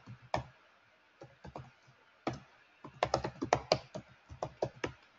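Fingers type a password on a computer keyboard in quick, uneven bursts of sharp key clicks that grow busier toward the end, close and fairly quiet with no talking.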